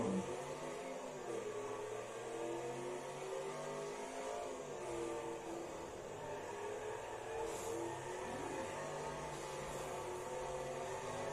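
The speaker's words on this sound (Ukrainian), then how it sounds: "дивіться, як газують на нас хулігани" Nearby vehicles rev their engines, heard from a car during a drive, a continuous layered engine drone with fluctuating pitch and no speech.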